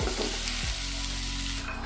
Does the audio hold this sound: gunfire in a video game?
no